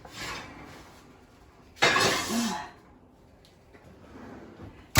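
A baking pan holding no-knead bread pulled from the oven: a loud metallic clatter and scrape of the pan, then quiet kitchen room tone with faint small knocks.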